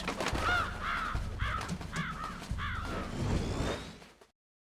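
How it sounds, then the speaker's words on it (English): A raven in the video game Metal Gear Solid caws harshly and loudly in a rhythmic run of about eight calls, some doubled, with nothing else heard beneath them. "the raven on my head. It thirsts for his blood."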